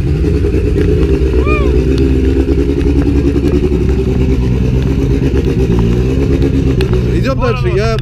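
A Renault 5 Turbo rally car engine at the Goodwood Festival of Speed makes a loud, rough, continuous mechanical rumble from close by, with rising revs near the end and people talking underneath.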